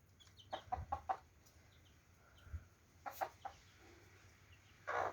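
Village chickens cluck nearby in the rain, in short bursts of quick clucks with quiet gaps between, plus a louder squawk at the end.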